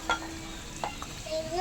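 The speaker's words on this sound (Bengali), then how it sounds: "চিংড়ি মাছ ভাজা হচ্ছে।" Prawns frying in a miniature kitchen pan, a soft sizzle under a few light clinks and scraping stirs of a small utensil against the pan.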